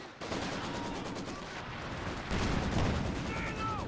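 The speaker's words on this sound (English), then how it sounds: "Good hit there from the Panzer IV." A Panzer IV tank fires in the Company of Heroes 2 battle game amid a dense, continuous wash of gunfire and explosions, loud and unbroken.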